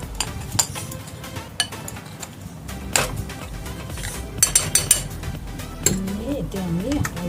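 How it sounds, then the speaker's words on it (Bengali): Chicken labanga latika dough is mixed in a bowl, with irregular clinks, knocks and scrapes of utensils against the dish, close and fairly loud, while a person talks at times. "এবার দেবো আমি ভালো করে এটা মিশিয়ে নেব।"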